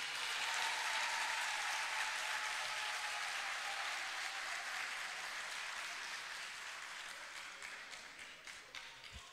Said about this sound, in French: Je voudrais qu'on acclame encore plus fort l'honorable Brendoumi.